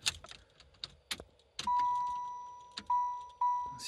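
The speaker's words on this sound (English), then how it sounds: "See, now we got that chime" A Saturn S Series car's key-in-ignition warning chime rings as a sustained tone that repeats in pulses after keys jangle and click into the ignition.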